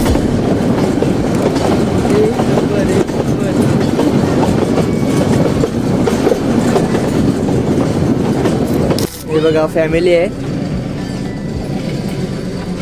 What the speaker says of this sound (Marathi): चला परत इकडून ट्रेन निघालेली आहे